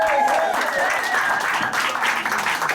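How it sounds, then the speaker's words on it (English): Loud crowd applause from a radio show audience in an auditorium, steady and energetic clapping mixed with a few cheers and voices throughout. "Let's clap for that."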